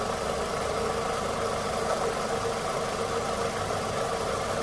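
A 2003 Toyota Camry 2.4 Q with a 2,400 cc VVT-i engine idling, a steady even hum with no stumbles, heard close and continuous throughout without any talking.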